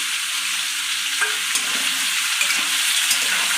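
Onions frying and stirred in a pan with tomato for a pumpkin and fish roe dish, a constant loud sizzle with occasional scraping and stirring knocks.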